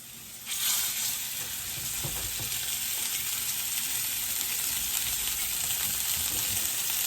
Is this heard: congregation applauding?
no